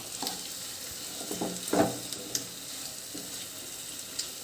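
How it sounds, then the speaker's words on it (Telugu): Gongura (sorrel leaf) chutney being stirred with an oil tempering in a pan, giving soft scraping stirs and a low sizzle with a few clacks of the spoon against the pan, steady and close. "తాలింపు వేసుకోవాలి వేసుకొని బాగా పైకి కిందికి కలుపుకోవాలి"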